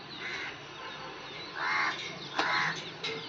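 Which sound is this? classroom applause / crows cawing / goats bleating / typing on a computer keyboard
crows cawing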